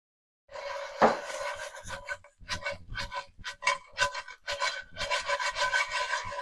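Crackling and rasping of tostones frying in a pan, coming in uneven bursts after a sharp clatter at the start, close and clear.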